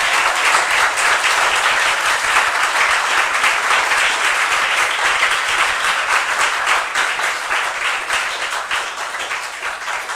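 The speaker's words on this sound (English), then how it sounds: "So my audience, let's give them a round of applause." A school audience breaks into sustained, loud applause at an academic competition, dense, steady clapping from many hands that holds for about ten seconds and tapers slightly at the end.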